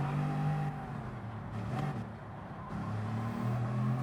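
Engine noise of a race car accelerating in Gran Turismo during a daily online race, a steady droning motor tone with shifting pitch, dipping briefly mid-clip and swelling again, continuous and fairly close, with no one talking.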